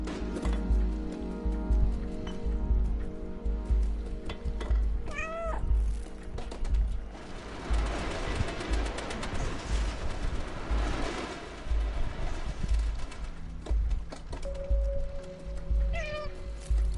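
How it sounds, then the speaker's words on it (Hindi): The orange cat in the video game Stray meows a few times over layered game music and ambient effects, short rising mews that stand out briefly against a busy, continuous background. "बिना डायलॉग्स दी गेम इदा ही होंदी है भाई, म्याऊं म्याऊं ही करते रहो।"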